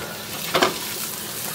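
Peppers and onions sizzle steadily in a frying pan, with a brief louder burst of stirring or scraping in the middle of a continuous hiss.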